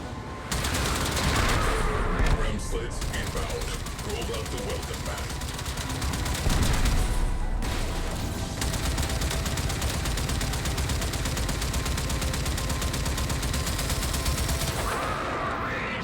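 Rapid sustained gunfire from the Warframe game during a Railjack space battle, loud dense bursts running nearly the whole time with brief pauses, with talk faintly underneath.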